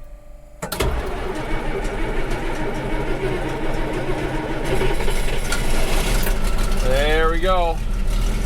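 An old tractor engine cranks and catches, then settles into a loud, steady idle that rumbles on close by; someone speaks briefly near the end.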